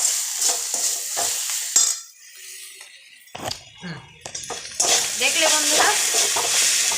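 Radish greens cooked with besan are stirred in a hot kadai, with close scraping, sizzling and occasional ladle clinks against the metal. A quieter lull falls in the middle, and a person talks briefly over the cooking.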